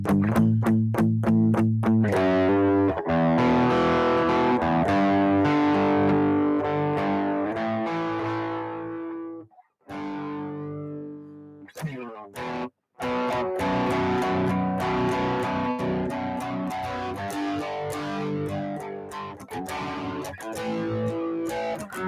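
Heavily distorted electric guitar plays sustained chords and riffs, washed in reverb and echoing delay, with brief drop-outs midway before resuming loudly.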